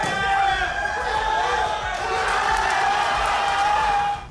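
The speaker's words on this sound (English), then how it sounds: "The crowd goes berserk because this is really a one-of-a-kind submission" Dense, roaring crowd noise at a Brazilian jiu-jitsu match erupts into wild cheering after a rare submission, loud and sustained throughout with overlapping shouts and voices.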